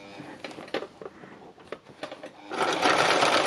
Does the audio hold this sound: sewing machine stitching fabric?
yes